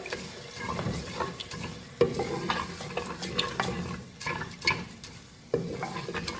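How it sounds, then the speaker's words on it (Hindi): Whole green moong lentils stir-fried with spices in a pan over a medium flame, giving a steady close sizzle with repeated scraping stirs and occasional sharper clatters of the spoon, no voices. "दाल को हम मीडियम फ्लेम पर भून रहे हैं।"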